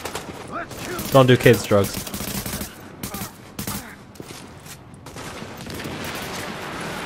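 Bursts of automatic gunfire in The Division, a clustered volley of rapid shots near the start, then scattered quieter fire under steady game ambience, with someone talking over part of it.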